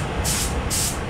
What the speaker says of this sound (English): We're both gonna be spraying clear at the same time.